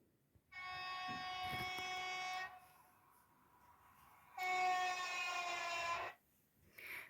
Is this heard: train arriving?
yes